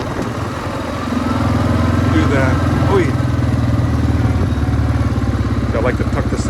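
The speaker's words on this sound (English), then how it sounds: "So I got plenty of room to walk next to the mower." A lawn mower engine runs steadily at a medium pitch, close and loud, its even buzzing drone rising slightly after the first second.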